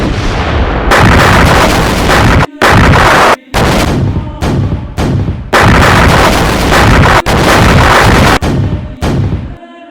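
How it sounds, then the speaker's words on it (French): Heavy artillery in an intense First World War bombardment at Verdun, loud and nearly continuous, with booming roars broken by a few brief gaps and no talk. "Bombardement intense, facteur de Verdun. Tir de l'artillerie lourde."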